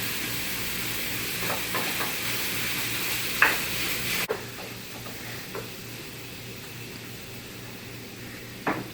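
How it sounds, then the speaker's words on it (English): Ground beef browns in a hot pan with a steady, bright sizzle and hiss throughout, broken by a few stirring scrapes and clicks, close and moderately loud. "Our pan is good and hot. We're going to add our ground beef. We're just going to start getting a good brown on that."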